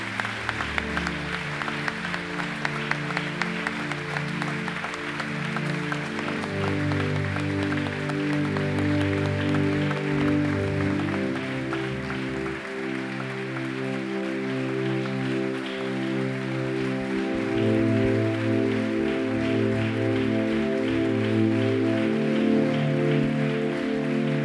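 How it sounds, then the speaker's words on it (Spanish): A church congregation at an annual retreat gives sustained, steady applause, a dense wash of clapping that holds for the whole stretch over continuous music underneath. "pero fuerte aplauso a Jesús."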